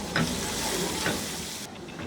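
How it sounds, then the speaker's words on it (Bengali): Onions and garlic fry in a pan with a steady, close sizzling hiss, broken by a few brief stirring scrapes over about two seconds. "মিনিট 2 পেঁয়াজ রসুনগুলা ভালো মতো একটু ভাজা হইলে"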